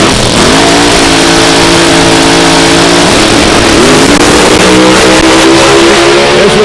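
A nitro-alcohol drag racing car at a Gateway Motorsports Park regional drag strip event roars hard and loud, its engine note climbing steadily with a brief dip and shift midway before rising again, continuous and close without any talk.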